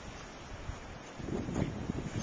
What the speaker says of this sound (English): The snow has stopped, but the wind's blowing fierce.